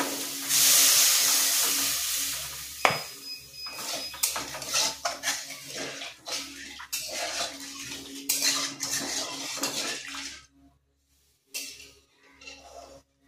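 Water poured into a hot pan of spices for kofta curry sets off a loud burst of sizzling and steam hiss, with metal pan and utensil clatter, fading to quieter bubbling and a brief near-silence before stirring noises resume.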